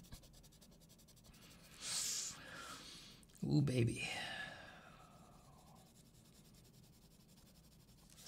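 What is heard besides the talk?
pencil scratching on paper while sketching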